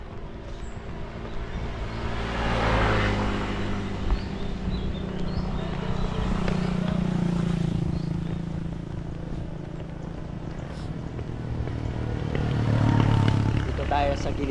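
Cars and motorcycles pass along a roadside street, their engines rising and fading in a steady rumble beneath a person talking.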